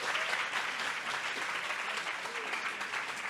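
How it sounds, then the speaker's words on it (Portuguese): Audience applause fills a book fair in São Paulo, a dense, steady wash of clapping from a sizeable crowd, loud and continuous for the whole few seconds with no talk standing out. "pedir um aplauso para eles."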